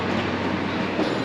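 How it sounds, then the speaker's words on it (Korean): Rapi:t airport train in Osaka, a steady low rumble and rolling rail noise of the train close by, continuous and fairly loud with no talk. "공항으로 돌아가기 위해 내가 탈 라피트 열차예요"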